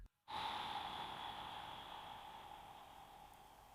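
A single slow, prolonged exhale through the mouth during a relaxation breathing exercise, starting after a brief silence as a breathy hiss that slowly fades, close and soft.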